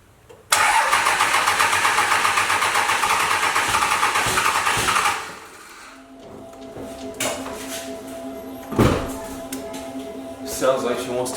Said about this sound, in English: I definitely don't want to miss the starting of the truck